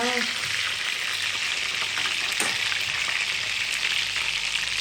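Meat cutlets frying in a pan, a loud, dense, continuous sizzle and crackle heard up close, with a few faint clicks beneath it.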